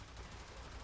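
Quiet, rapid crackle of enemy gunfire in the game Warframe, a brief dense burst of small shots heard faintly throughout.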